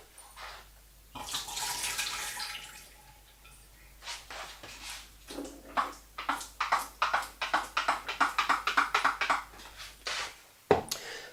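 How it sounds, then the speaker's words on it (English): Film pre-soak water splashes and drains into a sink, followed by a run of rapid glugging pulses as it empties, close and fairly quiet. "tip this water down the sink that's been pre-soaking the film"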